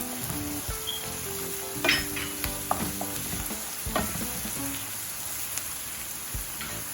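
Blended ginger and garlic go into a hot frying pan with onion, giving a steady soft sizzle with scattered stirring scrapes and taps, close and moderately quiet.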